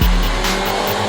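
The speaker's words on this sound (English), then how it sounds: "The engine has an energetic note and it gets you excited with its high-pitched growl." A car engine revs hard with a high, strained growl, loud and close, holding a tense whine after an initial burst.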